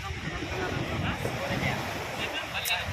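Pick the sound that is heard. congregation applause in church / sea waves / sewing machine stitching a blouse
sea waves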